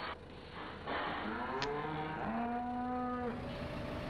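Cows mooing in Farming Simulator 2015, drawn-out bovine lowing calls that swell and overlap with a slight falling pitch, fairly close over a quiet farm backdrop with no talking.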